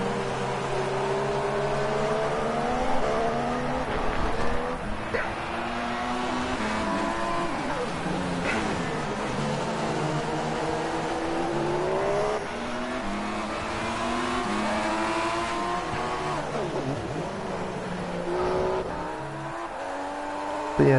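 Formula-style race cars in the F1 2016 video game during a GP2 Spain league race, with a continuous loud engine whine rising and falling through gear changes, other cars passing, and faint commentary underneath.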